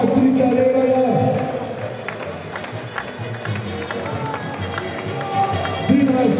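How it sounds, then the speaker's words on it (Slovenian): An audience claps for a handball player of the RK Slovenj Gradec club at an indoor event, steady applause with a crowd murmur under it, while an announcer talks over it. "En aplavz tudi za Patrika Levarja."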